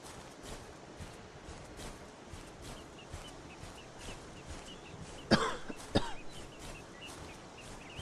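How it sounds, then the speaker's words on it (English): A game character in the survival game Stormy Islands gives two short, close coughs against a quiet ambient background with faint bird chirps. "Still coughing from the rain earlier"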